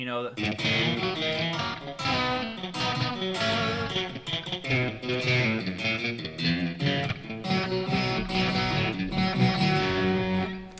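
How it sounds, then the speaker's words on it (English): Stratocaster electric guitar in pickup position 2, with a bright, twangy tone, played continuously in dense chords and runs at steady, fairly loud level. "one of the essential Strat tones is position 2."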